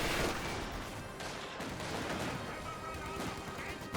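Continuous gunfire from an MG42 machine gun in Company of Heroes 2 forms a dense, steady wash of shots that carries on unbroken at moderate loudness without clear pauses.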